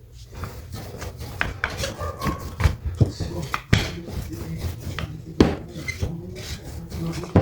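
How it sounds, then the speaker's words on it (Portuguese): A rolling pin presses and mashes cooled coxinha dough in a bowl to break up lumps, making irregular soft thuds, rubs and scrapes at close range. "eu vou amassando com um rolo assim"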